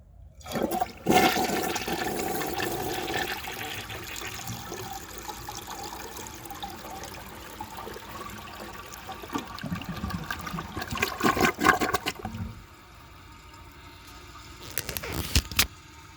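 A 1982 American Standard Plebe toilet with a clogged rim jet flushes loudly, a rushing surge of water that settles into a steady swirl and trickle, swells again near the end, then tapers off. No one speaks.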